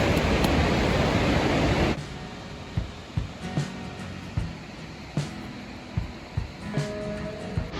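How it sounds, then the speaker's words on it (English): Wallaman Falls, Australia's largest waterfall, thunders as a loud broadband roar at first, then drops to a steadier rushing wash of water with scattered splashes and knocks close by. "That is the waterfall behind me. It's huge and it feels like it's raining down here."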